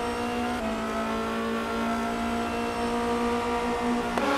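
A Formula Renault race car engine holds a loud, sustained high-pitched drone at full throttle, with a sharp shift in tone near the end as it passes close by on track.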